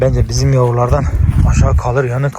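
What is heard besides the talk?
No distinct noise like a dog, phone or traffic.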